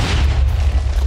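A deep, loud booming explosion from a Minecraft Star Wars tycoon game rumbles continuously for about a second, heavy and low.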